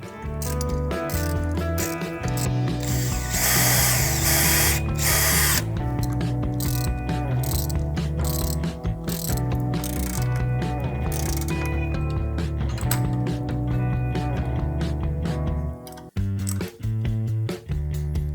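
Ratchet wrench cranking bolts tight on the mounts of a DOMAX swing seat, giving a dense run of rapid clicking strokes that goes on steadily at close range, with no talk over it.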